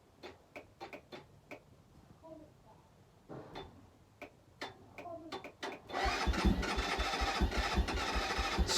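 A Keeway 125cc motorcycle with a Suzuki engine, unstarted for 18 months and on a new battery, sputters and ticks through repeated start attempts, with scattered faint knocks giving way to a louder, rougher, steadier churn near the end.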